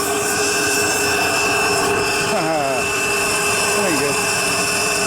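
A 1930s Carling 10 HP steam turbine engine runs with a loud, steady whine and roar. Someone speaks briefly over the constant mechanical drone.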